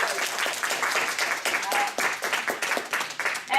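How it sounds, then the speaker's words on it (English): A crowd claps in sustained, dense applause, steady and fairly loud throughout, with a few whoops mixed in. "Can we give Michael and Miss Min Liu another round of applause?"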